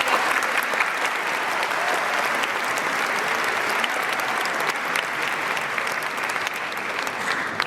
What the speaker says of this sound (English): How about a round of applause for those outstanding?